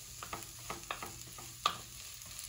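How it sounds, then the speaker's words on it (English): Seafood fried rice with shrimp and scallops frying over medium-high heat, a soft steady sizzle punctuated by a quick run of light spatula taps and scrapes, one clink standing out, fairly faint and close. "So I'm gonna let this fry for a few minutes. I'm gonna go like 2 or 3 minutes and just continuously stir."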